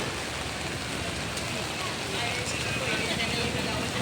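Rain falls in a steady, close hiss that fills the whole short stretch evenly, with no break or letup.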